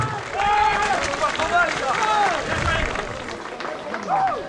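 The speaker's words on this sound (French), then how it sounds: "on peut les applaudir s'il vous plaît mesdames et messieurs" An audience applauds and cheers two teams after a hard-fought four-round semifinal bout at a tournament, with loud, dense clapping and crowd noise mixed with talk throughout.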